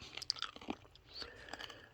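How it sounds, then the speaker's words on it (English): A mint being chewed close to the mic, with soft irregular wet crunches and mouth clicks over a couple of seconds, alone without speech. "I'm just chewing on a mint here at the moment."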